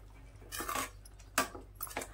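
A spoon stirs spiced pea curry in a metal pot, making a few short scraping and clinking bursts separated by brief pauses, close and moderately loud with no talking.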